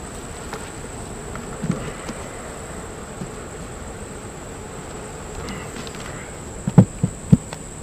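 Honeybees buzzing around an opened backyard hive during a beekeeping inspection, a steady close hum with a few soft knocks and thumps near the end, no talking.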